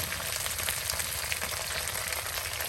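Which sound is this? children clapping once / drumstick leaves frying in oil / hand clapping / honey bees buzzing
drumstick leaves frying in oil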